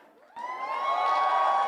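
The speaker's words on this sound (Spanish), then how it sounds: "Un grito de gozo." A church congregation shouting for joy, a sudden swell of many voices whooping and cheering that rises and holds steadily for a second or more, fairly loud and close.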